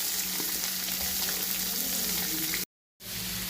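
Sliced onion fries in a pan with cumin and coconut pieces for chicken curry, giving a steady, dense, close sizzle that cuts out briefly near the end before resuming.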